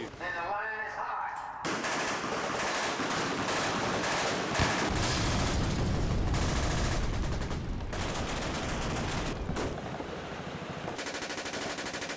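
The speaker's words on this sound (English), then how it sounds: "We're here at the Knob Creek Machine Gun Shoot" Sustained, overlapping automatic gunfire from many machine guns on a firing line at the Knob Creek Machine Gun Shoot, loud and continuous with dense rapid bursts and a few brief gaps.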